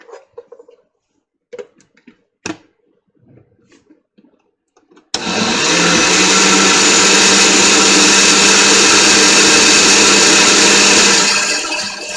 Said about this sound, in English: so that I can blend up the rest of my zucchini or summer squash